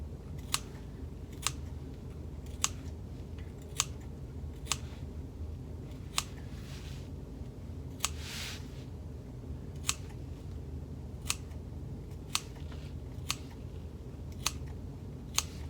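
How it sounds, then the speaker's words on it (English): Scissors snip repeatedly into the seam allowance along a curve of sewn lining fabric for a bag, producing crisp, evenly spaced clicks about once a second, close and clear over a quiet background. "I'm just going to clip a bit in the seam allowance here along the curve"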